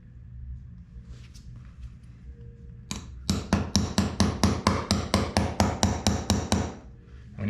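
Sharp, loud hammer strikes come in a steady run of about a dozen evenly spaced blows while cutting splitboard climbing skins, following a few seconds of quiet low rumble with faint knocks.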